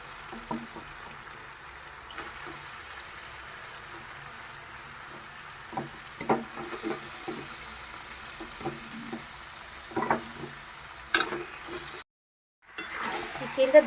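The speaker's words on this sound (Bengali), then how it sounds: "চিকেনটা দেওয়ার পর চিকেনটাকে মশলার সাথে ভালোভাবে কষতে হবে।" Chicken is fried and stirred with masala in a pan, a soft, low sizzle under scattered spatula scrapes and taps, with a short silent gap near the end before the sizzle resumes; a voice seems to be faintly present.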